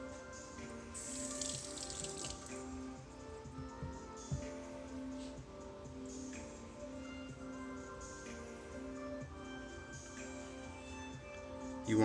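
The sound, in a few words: water rinsing a G10 panel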